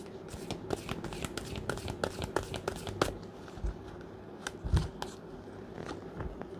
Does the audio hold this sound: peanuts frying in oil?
no